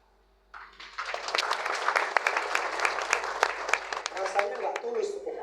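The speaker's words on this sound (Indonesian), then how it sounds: "Rasanya nggak tulus tepuk tangan." A church congregation breaks into applause during a Sunday sermon, a full, steady wash of many hands clapping that swells in after a brief quiet and carries on evenly, fairly close and moderately loud.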